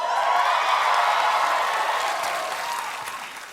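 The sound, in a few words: studio audience applause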